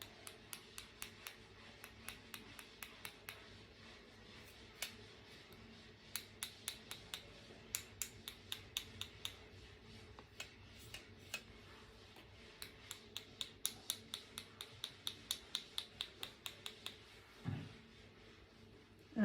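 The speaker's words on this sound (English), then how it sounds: "splatter away, tap away with a pencil." A pencil taps against a paint-loaded watercolour brush to splatter paint, producing crisp, quiet clicks in uneven bursts and runs with no talking.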